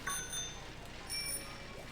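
A bicycle bell rings in the video game Pokemon Shield, two bright, clear chimes about a second apart over a faint steady background hum.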